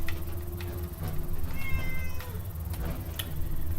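A cat in Fallout meows once, clear and fairly close, over a steady low background drone, with a few soft clicks around it.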